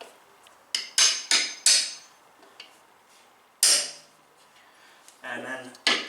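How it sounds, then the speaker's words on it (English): Hammer blows tap a stone into place on a concrete floor, sharp clacks in a quick group of four, then a single hit and a later strike, close and loud, with a faint scrape between them. "donk it down with hammer"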